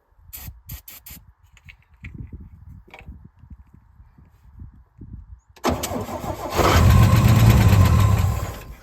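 A 1966 Chevy C10 shortbed pickup, unused since 1979, with brake cleaner sprayed into the carburetor: a few quiet clicks and soft mechanical thumps, then the engine cranks and catches with a loud, close roar that holds for about three seconds.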